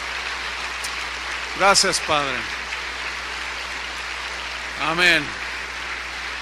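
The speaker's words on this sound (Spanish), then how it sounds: "denle un aplauso al Señor" A church congregation claps steadily through a Spanish-language sermon, the applause a soft even patter throughout while a voice speaks brief words of thanks over it twice.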